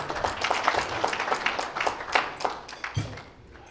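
Applause from a dinner audience at a baseball scouts' awards banquet: a steady patter of many hands clapping, moderately distant and soft, tapering off near the end.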